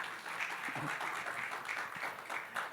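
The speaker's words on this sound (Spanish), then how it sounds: "Vamos a darle un fuerte aplauso a la líder, una de las líderes de joven." A church congregation applauds a youth leader, giving dense, steady clapping that fills the room at an even level without letting up.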